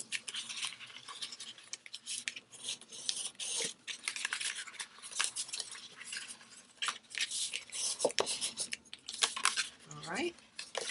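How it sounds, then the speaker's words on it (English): Paper folds on an origami twisted box are burnished, giving repeated close rubbing and scraping strokes in irregular bursts with small taps. "Burnish them really well."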